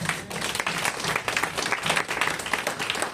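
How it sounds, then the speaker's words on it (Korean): A church congregation applauds during a sermon, giving a burst of loud, close, dense clapping that swells and dips slightly in waves over a few seconds. "하나님께 영광의 박수"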